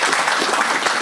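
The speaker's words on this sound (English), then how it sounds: "Can we give them a round of applause?" A short burst of dense audience applause at a Rabindranath Tagore bust unveiling in Edinburgh, steady, close and continuous throughout.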